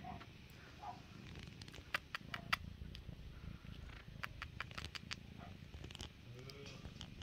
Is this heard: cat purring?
yes